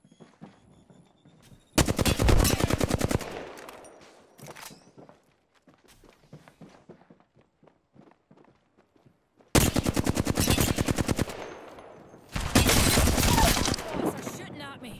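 Video game gunfire arrives in loud bursts of rapid automatic shots, three distinct volleys with quieter stretches of footsteps and small sounds between them.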